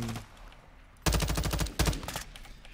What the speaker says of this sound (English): Okay, so it's gun blazing.